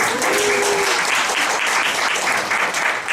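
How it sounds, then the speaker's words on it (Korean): Audience applause during a lecture by a software company chairman: a full, steady round of clapping from a large crowd, loud and continuous throughout the short stretch. "일단 박수 한번 드리시죠."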